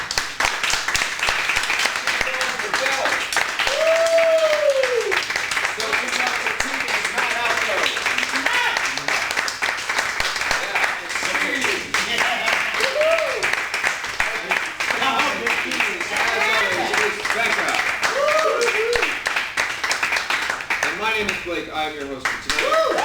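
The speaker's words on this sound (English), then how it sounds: "Give it up for Zach." An audience claps and applauds steadily for an improv performer at a live comedy show, a dense, sustained wash of clapping with a host talking over it.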